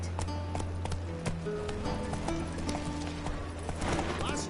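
Horse hooves clip-clopping at a running pace in The Witcher 3, a steady rhythmic beat over a low droning game soundtrack, with a brief muffled voice.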